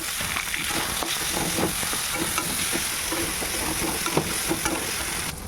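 Chopped tomato sizzles in a pan with onion and fried ginger-garlic paste, a loud, steady frying hiss broken by frequent spatula scrapes and stirring taps.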